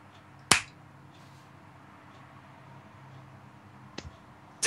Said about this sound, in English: I'm gonna clap and then you clap as soon as you hear it